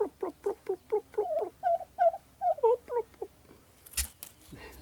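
A turkey hen at a farm makes a series of short, breathy puffing calls in quick rhythmic succession, close by, followed by a sharp noise. People talk around the calls.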